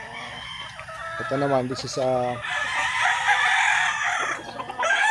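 Straight-comb Maclean chickens in a breeding pen, a rooster crowing twice in close succession amid steady clucking and flock noise, with someone talking nearby.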